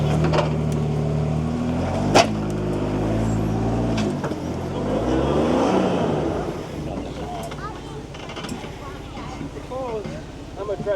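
A Land Rover Series III crawls off-road over a rusty ridge, its engine labouring close by and rising and falling in pitch as the load shifts, with bumps and knocks scattered throughout.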